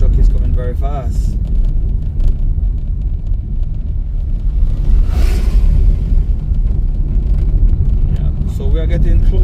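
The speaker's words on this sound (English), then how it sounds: "that truck is coming very fast" A truck speeding along a Montego Bay perimeter road, heavy low rumble and road roar that stays loud throughout, swelling as it passes close by, with someone talking over parts of it.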